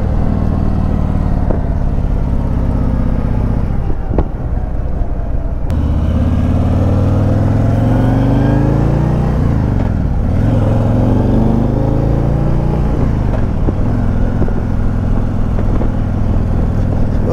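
A motorcycle trike's loud engine revs up with a climbing pitch, dips, then climbs again through repeated accelerations, rumbling close by the whole time.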